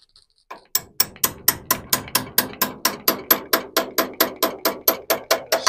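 Regular hammer blows drive a pin into the crankshaft fan pulley of a 1927 Ford TT, about twenty sharp metallic strikes in a steady rhythm, close and loud, with no talking.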